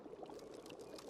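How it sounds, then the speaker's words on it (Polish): Liquid bubbling gently in a test tube over a small burner with a few coals, in an alchemy lab; a faint, steady watery gurgle. "Słychać, jak coś tam bulgocze na takim małym ogniu, takim małym palniku z paroma węgielkami pod jakąś probówką"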